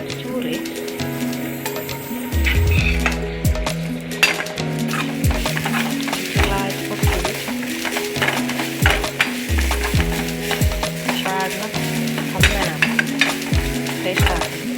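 Spices and curry leaves sizzle in a hot pan with ground masala and turmeric, the steady frying hiss broken by repeated scraping and clinks of a spoon stirring against the metal, with a voice talking over it.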